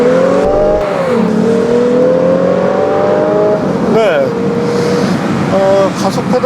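A Lexus RC F with a naturally aspirated engine in Sport+ mode accelerates hard, its engine note rising steadily in pitch, dipping at a gear change around four seconds and climbing again, loud and close from inside the cabin.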